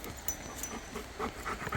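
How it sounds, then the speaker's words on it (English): A dog pants softly while playing fetch with sticks, giving a faint, breathy, steady rhythm over a continuous low noise. "I'm throwing sticks to my dog because this is an interspecies discussion."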